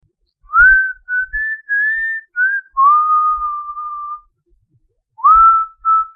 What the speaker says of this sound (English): Could you please stop whistling?